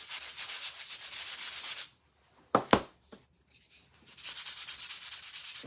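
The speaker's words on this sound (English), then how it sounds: "Give everything a light sanding." Rhythmic strokes of hand sanding on wood, close and steady, pausing briefly for a couple of knocks before the scraping resumes.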